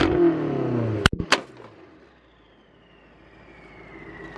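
A BMW M5 tuned to 720 HP revs its engine to about 4000 rpm with cans set near the exhaust. A short loud rev is followed by two sharp cracks, then a low rumble that fades out.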